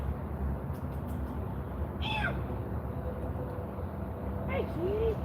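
Two short meows from a cat outdoors, set apart by a couple of seconds, faint and somewhat distant over steady background hum and traffic-like rumble.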